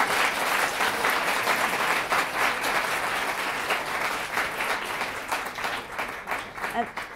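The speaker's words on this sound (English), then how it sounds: "Let's give them a round of applause as well." An audience at the 2017 International Public Policy Forum debate finals applauds the debaters and judges with sustained, dense clapping that fills the hall at moderate distance.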